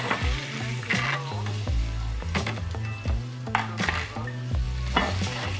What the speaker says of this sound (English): Now, we're gonna color the eggplant. Straight in, always lay away from you.